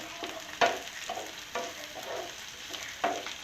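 Grated coconut sautés quietly in a pan for Pallipalayam chicken. A soft frying sizzle runs throughout, broken by a few distinct scraping clicks of a spoon stirring, with no talking.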